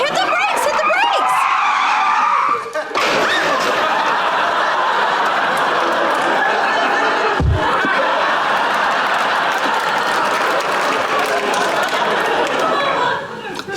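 A car's tyres skid loudly as the driver brakes hard in traffic, a long sustained screech broken by a sharp thump, with voices and audience laughter over it.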